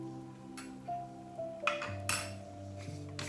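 Rabadi being stirred in a metal pot: a few spoon clinks and scrapes ring against the pot, followed by ringing metallic tones from the cookware.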